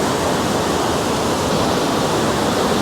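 Fast mountain water near Lauterbrunnen, Switzerland, gushes in a loud, steady roar of broadband rushing noise that holds without a break.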